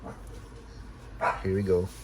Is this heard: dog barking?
yes